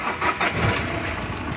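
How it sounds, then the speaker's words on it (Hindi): A diesel car engine cranks briefly and catches, settling into a steady, even idle close up. "आप देखो एक सेल्फ में गाड़ी स्टार्ट होगी।"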